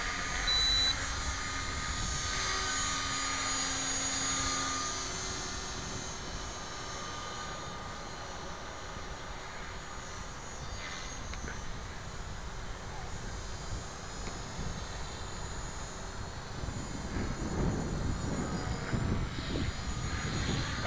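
An Align T-Rex 450 class RC helicopter flying in windy conditions gives a continuous steady rotor and motor whine that swells and fades slightly, with occasional talk over it.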